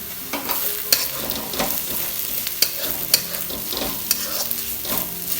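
Roasted coconut, hand-crushed, goes into sizzling onion masala for egg loncha, with steady close frying hiss and intermittent stirring scrapes throughout.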